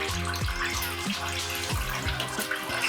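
Power steering fluid draining from a loosened hose on a BMW E36, a steady close liquid trickle with bubbling, gurgling pulses, heard alone without talk.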